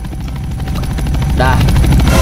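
Loud, close rotor thrum of a helicopter in the Roblox game Gym Tycoon, with rhythmic chopping, a voice speaking over it briefly.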